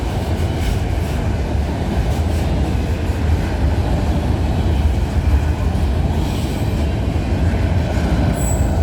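A CPKC freight train with auto racks rolls past up close, a loud continuous rumble of wheels on rails with occasional squeals and clatter, steady throughout.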